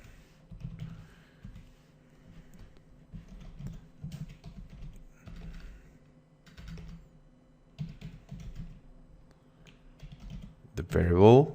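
Typing code on a computer keyboard, quick irregular clusters of key clicks continuing under a man's speech.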